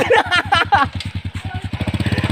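A motor vehicle engine catches on a single start and settles into a loud, close, rhythmic putter of evenly spaced firing pulses, while someone talks excitedly over the first moments.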